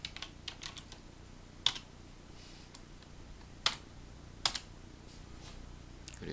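Computer keyboard typing sounds close and fairly quiet, with soft irregular key taps and three sharper, louder key strikes spaced a couple of seconds apart over a faint steady background hum.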